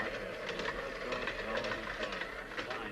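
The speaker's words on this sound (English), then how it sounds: "We'll start the train off slowly because all trains start slowly" Children make a train sound effect together, a steady rhythmic chugging hiss with faint clickety-clack pulses, starting slowly and continuing without a break.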